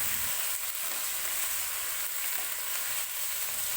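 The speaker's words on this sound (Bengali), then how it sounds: "আগে থেকে সিদ্ধ করে রাখা মাংসগুলি কড়াইয়ের মধ্যে দিয়ে দিতে হবে।" Boiled chicken pieces stir-fried in a wok for mustard chicken, a continuous close sizzle with faint scraping and stirring and no talk.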